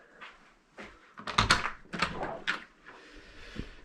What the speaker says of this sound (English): I went to look out my side door